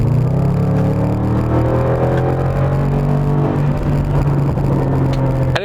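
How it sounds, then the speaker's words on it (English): A 2017 Range Rover Sport SVR shifted down in manual mode burbles and droans as the engine winds down on overrun, loud and close, with a steady low engine note and scattered sharp crackling pops across the rush. "it makes these most amazing pops and bangs and crackles on the overrun like you can hear now"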